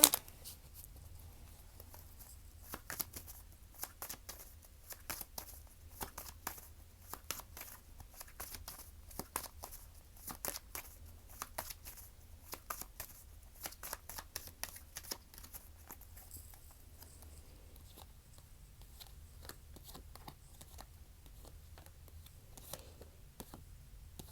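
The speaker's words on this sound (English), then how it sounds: "I'm going to go ahead and get started shuffling this deck" Soft, rapid riffling of a tarot deck being shuffled comes in repeated bursts with pauses between, quiet and close, with no voices.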